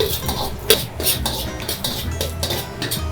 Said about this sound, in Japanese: 弱火でじっくりと炒めてニンニクの香りを移していきます。